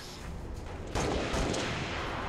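A single sharp sniper rifle shot in the Halo Reach multiplayer video game, a loud broadband crack followed by a lingering tail over steady game noise, no talking.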